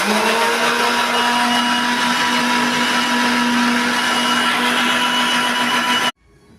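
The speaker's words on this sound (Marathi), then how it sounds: "आता बारीक करायला लागले मिक्सरला" A kitchen mixer grinder whirs loudly and steadily as it grinds soaked urad dal and rice with a little fenugreek, a constant high motor whine lasting about six seconds before cutting off abruptly.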